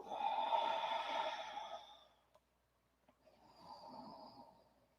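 Deep breathing during a vinyasa yoga flow: one long audible exhale, then a pause and a softer second breath, close and quiet with no talk.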